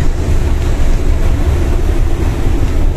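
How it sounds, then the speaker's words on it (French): Strong gusting wind buffets the microphone on a motorway viaduct, a loud continuous low rumble that stays steady throughout. "Il y a un vent de malade."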